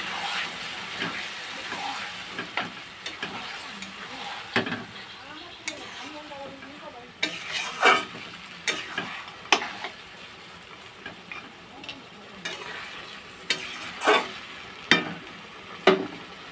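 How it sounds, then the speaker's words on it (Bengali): Mutton being stir-fried with onion and tomato in a pan for spicy mutton kosha, with a steady sizzle and hiss under repeated sharp clanks of a spatula against the pan that grow more frequent toward the end. "এখন এটাকে ভালোভাবে পেঁয়াজ আর টমেটোটা এর সঙ্গে মিক্স করে দেবো"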